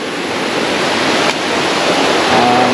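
A river flowing past a campsite, a steady loud broadband rush of water, close and continuous without any talking.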